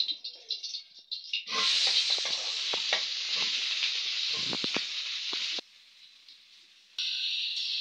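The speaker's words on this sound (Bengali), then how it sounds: "সিদ্ধ করা সয়াবিন ভেজে নেব।" Boiled soybean chunks fry in a little mustard oil in a hot wok, giving a loud, steady sizzle that sets in after a few seconds, with stirring scrapes and clatter. The sizzle briefly dips and then returns.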